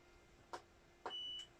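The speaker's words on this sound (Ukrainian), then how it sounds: "працює від інвертора, це пікає, паяльник увімкнув. Пішло перенавантаження." A power inverter overloaded when a soldering iron is switched on gives two short, faint electronic beeps about half a second apart, followed by a thin sustained tone, in a quiet room.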